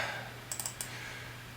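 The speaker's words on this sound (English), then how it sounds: "We're going to double click the device updater file" A computer mouse double-clicked to open a device updater file, heard as a quick cluster of small, close, crisp clicks over a faint steady hum.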